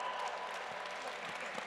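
An audience claps through a lecture-hall panel discussion, a brief, fairly faint wash of applause that holds steady from start to end with no clear individual claps standing out.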